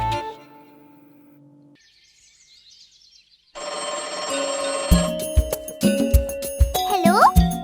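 A telephone in a Hindi children's cartoon rhyme rings with bright, repeated electronic trills over cheerful music, loud and close.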